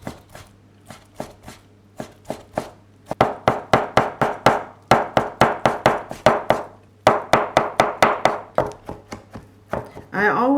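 A knife chops meat thinly on a board with sharp, rhythmic strikes that come in quick bursts separated by short pauses, close and clear.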